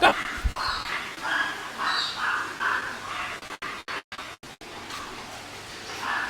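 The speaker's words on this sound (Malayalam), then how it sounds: "എടാ പിന്നെ ഈ കടി കൂടാനാണ് പോകുന്നത്." Several dogs scuffling and fighting, with short barks, yelps and scratchy squabbling noises at close range, some bursts cut off abruptly, and no speech.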